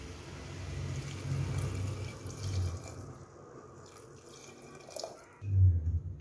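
Water runs and splashes into a pressure cooker pot for tomato soup in a steady pour, fading briefly before a louder gush near the end.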